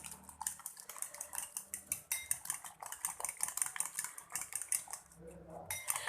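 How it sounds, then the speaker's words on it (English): Eggs with coriander being whisked briskly in a bowl for an omelette, a fast rhythmic run of metal-on-bowl clicks and taps, close and continuous with a short pause near the end. "And whisk it nicely again."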